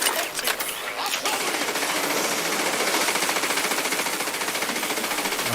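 Rapid ricochet gunshots in Cyberpunk 2077, a fast, even rattle of repeated shots running almost without pause, loud and close, with sharp bright cracks at the start.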